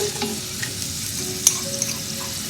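Coriander and spices sizzle and fry in hot oil during tempering for sambar, a steady close crackle with occasional sharper pops and stirring clinks, no talk.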